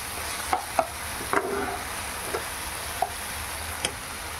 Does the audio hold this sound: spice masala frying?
yes